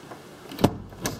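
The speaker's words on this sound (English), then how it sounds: "This door sticks in its jam." An interior door in an early-1960s North Texas house sticks in its jamb, giving two brief dull thumps about half a second apart in a quiet room.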